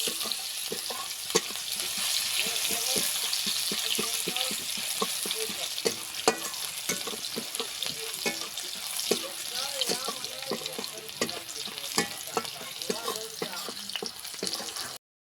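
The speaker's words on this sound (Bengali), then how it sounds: "পেঁয়াজটাকে একটু ভাজে নেব লাল লাল করে" Chopped onions fry in oil until browned for a village-style fish curry, giving a steady, close sizzle with frequent clicks and scrapes of stirring throughout.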